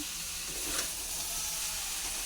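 Shrimp and other ingredients fry in a pan, producing a faint, steady sizzle and hiss with a brief louder crackle partway through.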